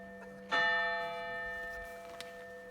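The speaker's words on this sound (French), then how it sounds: "3 cloches différentes et la volée des 3" Church bells at Aiguilles ring for a festive Angelus; one loud, bright strike blooms and hums away slowly, followed by a softer second stroke near the end in an otherwise quiet setting.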